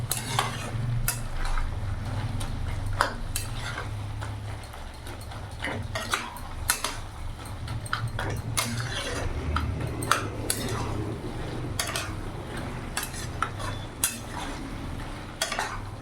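Mixed-vegetable chorchori with cauliflower leaves gets stirred in a pan, a spoon scraping and clinking against the metal in a steady rhythm of strokes over a continuous low sizzle, close and fairly quiet.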